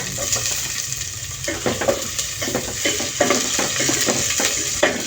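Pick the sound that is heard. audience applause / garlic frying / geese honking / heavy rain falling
garlic frying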